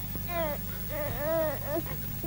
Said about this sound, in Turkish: Bak, ağlıyorsun bak.